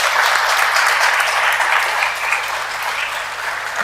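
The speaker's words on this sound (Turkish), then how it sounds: "Bir alkış da onun için istiyorum sizlerle." A crowd applauds at an award ceremony of the International Association of Facilitators, a loud, sustained wash of clapping from many hands that holds steady, then thins a little toward the close.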